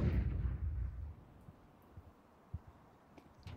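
An HE grenade detonates during a professional Counter-Strike match in the ESL Pro League, a loud low boom at the start that rolls off over about a second, followed by faint scattered thuds and small pops.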